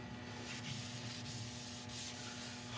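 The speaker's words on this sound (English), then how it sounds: "I'm going to go on with some abrasive pastes and a fine abrasive paste that should take the finish well up to about 2000" Abrasive paste works a resin rim turning on a lathe, a continuous soft scouring rub with slight pulsing over a steady motor hum.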